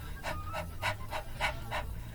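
A human voice imitates a dog panting, with six quick breathy pants in a steady rhythm, close and alone.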